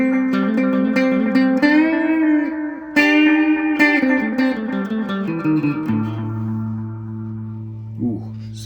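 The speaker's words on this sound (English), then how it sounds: "It is a great sounding delay." Electric guitar played through a Catalinbread Montavillian Echo delay pedal: sustained chords and single notes trail into repeating echoes and a spacey wash, ending with low held notes and a final plucked note, with no voice.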